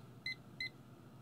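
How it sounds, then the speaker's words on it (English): A kitchen timer gives two short, high electronic beeps a fraction of a second apart while being set for three minutes, faint and close over a quiet room with no talk. "We're going to set our timer for 3 minutes."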